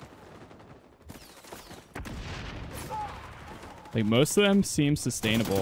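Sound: gunfire in the video game XDefiant

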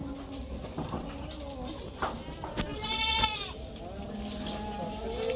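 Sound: goats bleating on a farm

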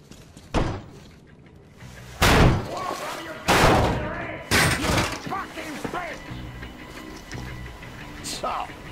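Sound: door being forced open in Metro Exodus video game

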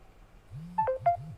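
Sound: LINE app notification sound on Android phone

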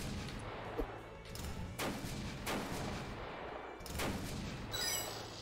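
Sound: rocket launcher firing in a video game

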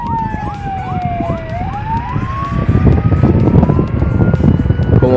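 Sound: police and ambulance sirens at a carnival parade

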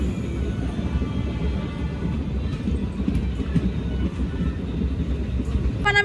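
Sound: train moving with passengers aboard

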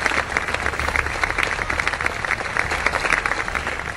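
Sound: audience applause for students

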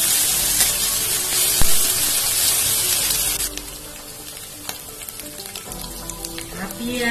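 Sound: stirring chopped green chillies frying in pan

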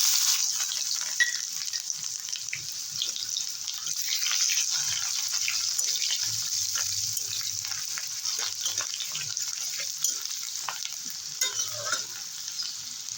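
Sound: chopped onions frying in oil

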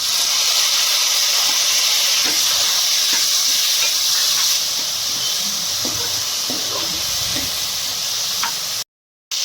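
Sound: tomatoes added to browned onions sizzling in pan

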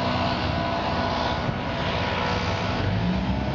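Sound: leaf blower running nearby

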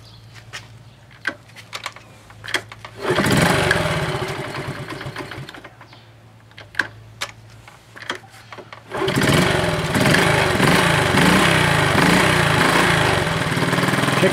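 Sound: 1971 Honda CT70 motorcycle engine kick-started and running

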